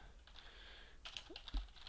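Quiet typing on a computer keyboard, a few soft scattered keystrokes clustered near the end against faint background hum.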